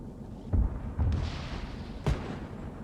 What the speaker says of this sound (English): taking heavy artillery fire at Zielpunkt 1